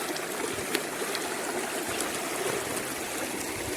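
Steady rushing of river water flowing, a continuous broadband wash with no voices, even and close throughout.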